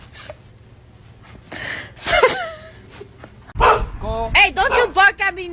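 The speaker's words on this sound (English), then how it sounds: "don't you bark at me" A dog gives several short, sharp barks and yelps in quick bursts, close and loud, with pauses of low background noise between them.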